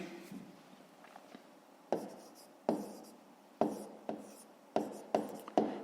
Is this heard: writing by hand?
yes